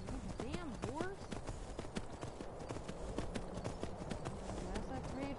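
Horse hooves clip-clop in a steady, quick rhythm in a PS4 video game, moderately loud against a soft game backdrop, with short whistly tones rising near the start.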